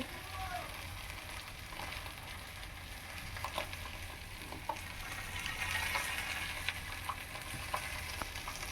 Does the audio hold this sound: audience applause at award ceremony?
no